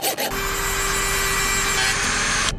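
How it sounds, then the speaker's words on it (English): A Dremel rotary tool cuts through a metal screw on a bailing pump, a sustained, loud, high grinding whine that starts abruptly and holds steady for a couple of seconds before stopping. "now let's cut it off with a Dremel."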